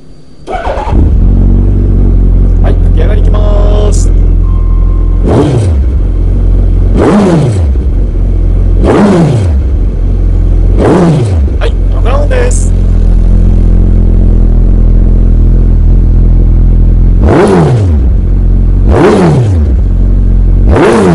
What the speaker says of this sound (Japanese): ではエンジン始動いきたいと思います。